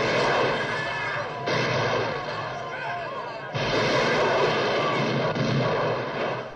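Dense gunfire rattles through a John Woo film shootout, loud and continuous bursts with crashes layered over a roaring backdrop, no voices.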